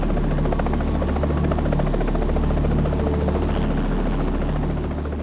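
A military helicopter hovers low over a Land Rover roof as a soldier drops down, during a British peacekeeping operation in Bosnia; rotor and engine make a loud, steady, continuous roar with a constant whine, close and unbroken throughout.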